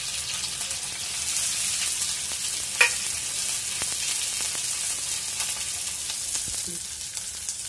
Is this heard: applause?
no